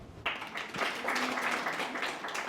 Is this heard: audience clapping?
yes